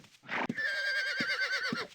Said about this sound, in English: Let me drop my horse off over here.